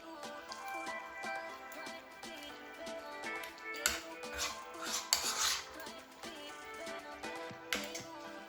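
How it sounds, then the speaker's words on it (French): Japanese curry ingredients stirred in a pan, a spoon scraping and tapping against the metal in an uneven rhythm, close and moderately quiet over soft background music. "Et maintenant, hop, on va mélanger tout ça."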